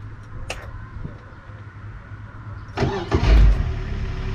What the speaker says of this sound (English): it's time to crank this guy up